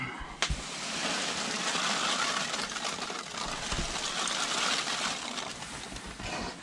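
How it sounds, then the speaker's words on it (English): Lightweight foam packing peanuts poured into a cardboard shipping box, giving a steady loose rustling and pattering that runs continuously for several seconds, close by, with a single sharp tap near the start. "Okay, fill it up more with packing peanuts."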